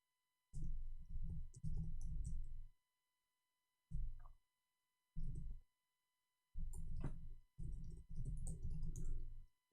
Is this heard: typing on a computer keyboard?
yes